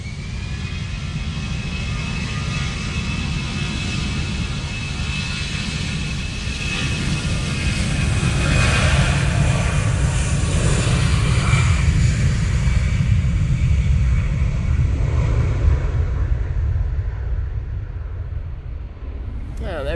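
EasyJet airliner engines spool up at Manchester Airport on a wet, windy day, a broad rumbling roar that swells gradually toward the middle and eases off near the end, with people talking over it.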